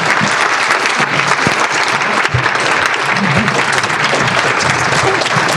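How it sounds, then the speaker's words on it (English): Loud, sustained applause from an audience filling the room, steady clapping throughout with a brief dip partway. "Big round of applause for Mary and the team at MSCR."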